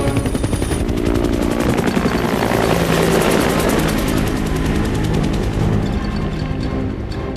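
A Sea Stallion helicopter lifts cargo slung from a cable. Its rotor beats with a loud, continuous, rapid chop close by, and the engine roars under it throughout, with no talking.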